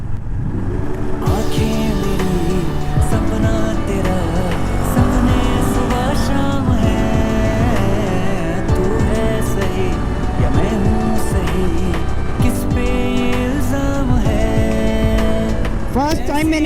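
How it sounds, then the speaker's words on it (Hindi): A motorcycle on a road trip is pushed hard, its engine revving and accelerating in a loud, continuous drone with shifting pitch. A voice can be heard over the engine. "फर्स्ट टाइम मैंने इतनी खींची है ये बाइक"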